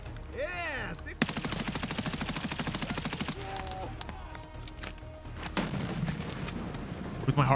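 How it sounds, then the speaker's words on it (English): Gunfire on the Shoreline map of Escape from Tarkov: a fast, steady automatic burst followed by scattered shots and game sounds, with some voice underneath. "that's when I heard shooting"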